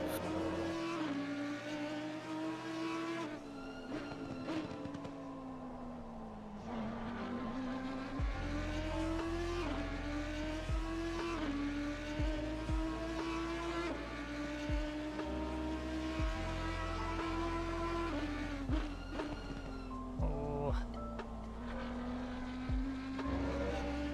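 GT race cars in a racing video game lapping Imola, engines revving up and down through gear shifts with repeated short tyre squeals and slides, loud and continuous without talk.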